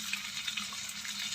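Spices, starting with dried chili, sizzling as they drop one by one into hot oil left from frying fish in a kadai, a steady close bubbling hiss with no talk.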